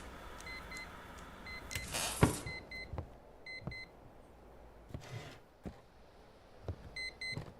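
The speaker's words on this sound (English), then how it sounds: "Oh, it's the alarm. Oh, I guess it's telling me that my shift is over." Repeating electronic beeps of a shift-end alarm in the horror video game Static Dread, sounding in short spaced bursts over a low background hum with a brief loud noise burst early on; no talking.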